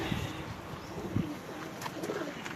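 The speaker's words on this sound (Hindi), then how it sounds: "ये भी बड़ा कबूतर है टैडी" A large pigeon at a breeder's loft coos softly in a few low, throaty pulses, faint against a steady wash of background noise.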